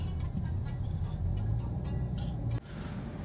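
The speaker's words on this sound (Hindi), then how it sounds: "रियाद का ट्रैफिक बहुत ज़्यादा है भाई देखो" Heavy road traffic rumbles in Riyadh as cars pass at close range, a dense continuous engine roar with a brief dip near the end.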